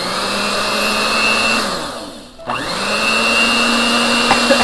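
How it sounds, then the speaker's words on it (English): An electric mixer whirs steadily through chocolate cupcake batter with baking soda and coffee, loud and close, its pitch dipping briefly midway before climbing back to a constant drone. "from here guys we will mix the whole mixture"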